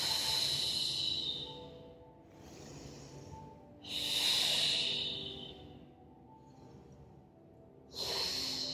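Slow, deep breaths during a Pilates exercise, three long hissing exhales with softer inhales between them, close and clear with no talking.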